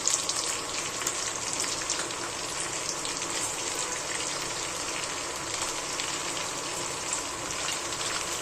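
Peanuts, cumin and mustard seeds fry in hot oil for dalimb pohe, giving a dense, continuous crackling sizzle close by with no voices.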